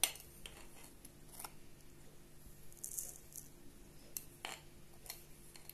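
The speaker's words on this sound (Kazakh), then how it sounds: "Бұған 2 қасықтай қант саламыз." A spoon adding sugar to a glass jar of chopped onions, faint scattered metallic clinks and scrapes against the glass, quiet and irregular.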